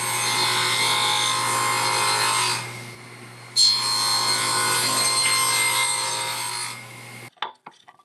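A saw cuts grooves into a wooden board with a steady, rasping power-tool whine that stops briefly, then resumes for a second pass before cutting off, followed by a few light knocks; close and loud, no talking.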